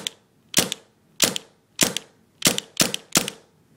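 Six sharp snapping shots from a Tippmann paintball gun, full-auto factory model, fired one at a time in an uneven rhythm, close and loud with short metallic decays and no talking.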